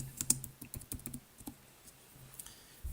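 Soft, irregular clicks of typing on a computer keyboard, faint and close, with short bursts and pauses.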